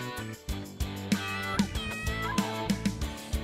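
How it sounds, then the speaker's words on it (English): A cartoon cat meows several times over a bright children's song backing, the mews short and close, sitting amid music rather than alone. "This is the cat."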